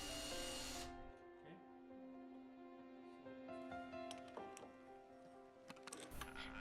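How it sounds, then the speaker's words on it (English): A power drill whines steadily as it bores into a wall to take a Tapcon screw while a marble mantel is installed, a faint humming drone with a brief louder burst at the start and small knocks. "We're drilling, and this will take a tap con."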